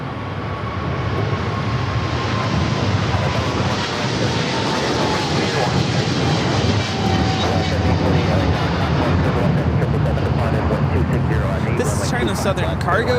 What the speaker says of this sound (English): Southern Cargo 2592 taking off to Shanghai on the 777 freighter